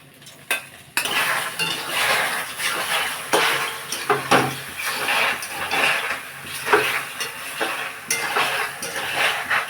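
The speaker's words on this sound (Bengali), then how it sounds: "এবার ওর মধ্যে সেদ্ধ করে রাখা পাস্তাগুলো দিয়ে দেবো" Boiled pasta tipped into a pan of fried vegetables, with metal utensils scraping and clinking against the pan and a steady sizzle throughout, loud and close with no talking.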